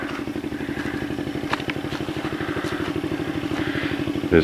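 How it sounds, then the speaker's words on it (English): A steady, chugging tractor engine idles with a regular low thrum, heard from some distance near a rice field, accompanied by faint clattering. "That engine you hear in the background is what we're going to go check out."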